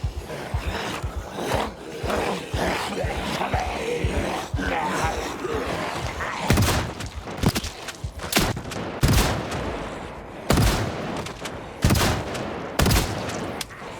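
Gunfire in the zombie survival game Project Zomboid, with dense, rapid shots crackling over a busy background of fighting, some sharp bursts standing out loud and near.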